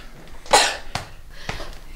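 A person coughs three times, with one loud harsh burst followed by two shorter, softer coughs spaced about half a second apart against a quiet background.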